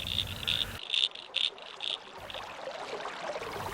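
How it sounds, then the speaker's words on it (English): Frogs and insects calling from a creek, with species such as froglets, pobblebonks and spotted marsh frogs; faint high chirping trills rise and pause in short bursts over a quiet outdoor background. "Common species like froglets, pobblebonks and spotted marsh frogs are frequently heard calling from the water."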